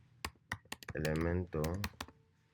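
Keys on a computer keyboard clack in a short burst of crisp, close taps, interrupted by a person speaking over the typing.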